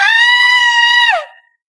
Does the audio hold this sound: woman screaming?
yes